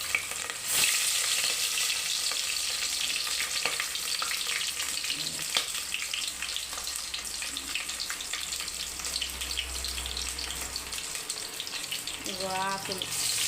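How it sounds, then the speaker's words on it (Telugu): Green chillies fry in hot oil with a dense, steady sizzle close by, a few spatula taps and stirs scattered through, and a short wavering tone near the end. "పచ్చిమిర్చి వేసుకోవాలి. ఒక 4-5 పచ్చిమిర్చి,"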